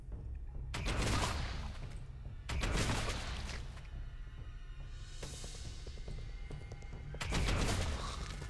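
Heavy gunfire bursts in the Warhammer 40K Deathwatch tactical game, with three loud volleys spaced several seconds apart over a low rumbling background.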